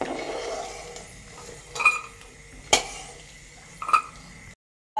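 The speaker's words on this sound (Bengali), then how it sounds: "আমরা বাটিতে তুলে রেখে দিচ্ছি বাদামগুলোকে" Fried peanuts being scooped from a pan into a bowl, heard as three sharp metallic clinks of a spoon against cookware over a low kitchen background, close and without talk, ending in sudden silence.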